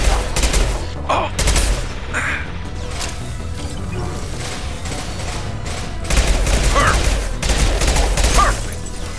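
Rapid bursts of gunfire crackle through a loud Mass Effect 2 firefight, with short volleys and impacts recurring over constant combat din and brief shouted voices.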